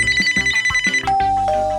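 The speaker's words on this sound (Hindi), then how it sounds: "अब बेल भी बज रही है।" A cartoon telephone rings in a Hindi animated kids' story, a bright electronic ringtone. It starts as a rhythmic patterned tune, then shifts into a sustained ringing tone, loud and close with no talking.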